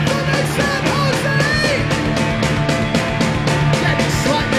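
A large crowd at a rock concert in San Jose screams and roars continuously, loud and dense throughout, with the amplified band sound mixed underneath.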